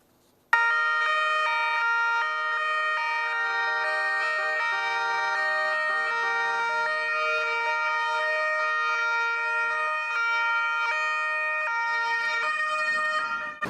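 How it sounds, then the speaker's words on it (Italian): A steady, loud siren tone with rich harmonics sounds continuously for over ten seconds, holding nearly constant pitch with only slight wavering. "Il suono delle sirene squarcia il silenzio irreale di una tragedia che non ha confini."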